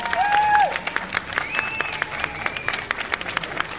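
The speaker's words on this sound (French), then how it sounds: "On peut applaudir." Audience at a convention panel for Les Mystérieuses Cités d'Or applauding a guest, a steady patter of many hands with a brief sung or whistled tone near the start, moderately close.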